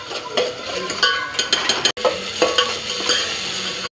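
Crab curry masala is stir-fried in a pan, loud close sizzling and crackling with repeated scraping and clinking of a spatula against the pan, one brief dropout midway, no speech.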